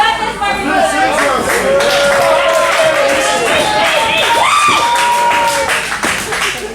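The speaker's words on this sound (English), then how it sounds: "Both men getting some love from the crowd." A crowd at an independent professional wrestling show cheers and applauds in a steady, loud roar that fills the whole stretch, with shouting voices mixed through it.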